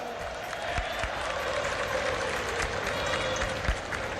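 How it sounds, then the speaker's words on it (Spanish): Applause from a crowd at a formal football award ceremony during a plaque presentation, a steady wash of clapping with a few sharper claps standing out, moderately distant and continuous throughout. "El aplauso, por favor"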